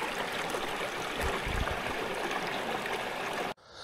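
A small trout stream flowing, a steady close rushing and gurgling of water that holds an even level throughout before cutting off abruptly near the end.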